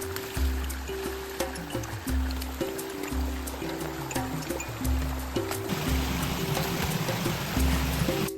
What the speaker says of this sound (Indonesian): di sini aku menemukan anakan sungai